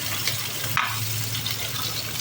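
Onion sautéing in cooking oil in a pan for Filipino ginisang monggo, a steady close sizzle with a brief louder burst near the middle as it is stirred, no talking.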